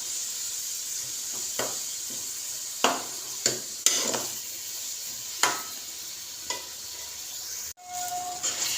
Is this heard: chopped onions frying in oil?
yes